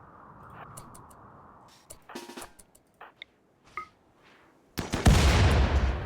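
In the video game RimWorld, a few scattered sharp clicks and gunshot-like pops come first, then a loud, rumbling explosion bursts in and fills the last second.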